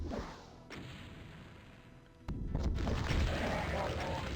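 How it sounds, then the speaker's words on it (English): Rocket launcher explosions in Doom on the Eviternity II map Annihilate Me: a few sharp, booming blasts, one heavier burst opening into a dense, loud rumble of continuous detonation. "we can pretty much kill everything else that's left here with rockets"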